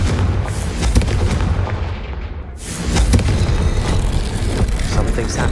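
In Hogwarts Legacy, a Confringo spell bursts with loud booming explosions, one heavy blast trailing off into a fading rumble before another strikes, set against constant rumbling game sound.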